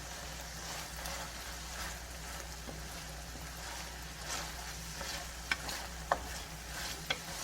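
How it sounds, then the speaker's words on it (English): Food cooks down in a pan with a steady, quiet sizzle and occasional stirring, and a few sharp small pops near the end; no one speaks. "we definitely want them to cook down just a little bit."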